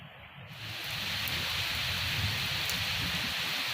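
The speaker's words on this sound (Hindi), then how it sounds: "आंधी, तूफान और बारिश का मंजर हर तरफ दिखाई दे रहा है।" Heavy rain and storm over farmland in Madhya Pradesh as Cyclone Nisarga passes, a dense, steady roar of falling rain that swells within the first second and holds loud to the end.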